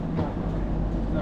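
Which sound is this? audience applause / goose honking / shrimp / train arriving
train arriving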